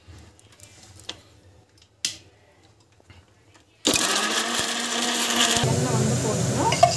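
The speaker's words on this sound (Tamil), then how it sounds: "இந்த மிக்ஸில வந்து ஃபுல்லா அரைச்சிட்டோம்" A mixer grinder grinds sautéed ingredients for mutton gravy, starting abruptly as a loud, steady whir that fills the second half after quieter kitchen clatter and a few taps.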